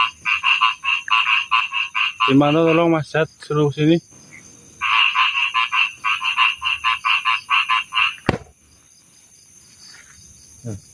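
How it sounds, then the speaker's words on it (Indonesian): Frogs croak in rapid, pulsing trains, repeated in bursts across the whole stretch with short gaps. A brief spoken exchange breaks in midway, and a sharp click sounds near the end. "Ini katak, Akan usir. bunyinya enggak seperti katak ya."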